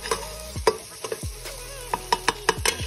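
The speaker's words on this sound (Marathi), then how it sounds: "तर गाईज आपला मसाला आता छान फ्राय होतोय।" Masala for a home-style village mutton curry sizzles in a pan while a spoon stirs it in sharp, irregular scrapes and knocks, close and fairly loud over a steady frying hiss.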